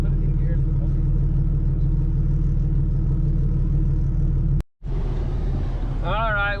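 A vehicle engine idles with a steady low rumble at an off-road recovery on a dirt road, cuts out briefly, then restarts and runs on while a voice talks over it.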